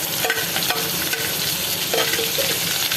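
Green chillies, curry leaves and whole cumin sizzle steadily in hot oil in a pan, a continuous close frying hiss with faint stirring clinks and no talk.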